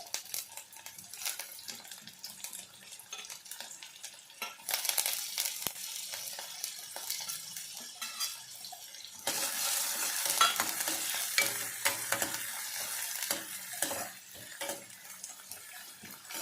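Onion and green chili frying in hot oil in a pan for cauliflower Maggi masala curry, a hissing sizzle that swells louder midway, with repeated spatula scrapes and clinks close by and no talking.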